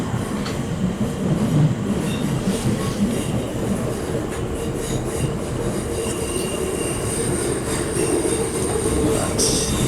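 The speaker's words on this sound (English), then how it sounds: "we're on a Southeastern train heading to Charing Cross" Riding aboard a Southeastern passenger train toward Charing Cross in London, a loud constant rumble of wheels on track fills the cabin, with rattling, clicking joints and thin squeals of the wheels.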